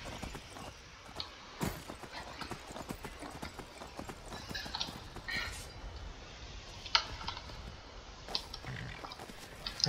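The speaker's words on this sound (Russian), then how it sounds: "Лошадка-то." Horse hooves clip-clop steadily in Skyrim (Requiem mod), a dense run of close, quick hoofbeats alone without talk, with a brief whinny-like sound mixed in.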